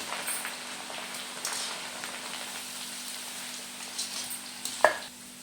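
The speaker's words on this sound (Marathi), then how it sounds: "तेल घेतलेलं आहे तापलेलं आहे टाकून थोडे थोडे घालून सनी तळून घ्यायचं आहे" Poha fries a little at a time in heated oil for Diwali masala chivda, giving an even, crackling sizzle at moderate level with a sharp clink near the end; no talking.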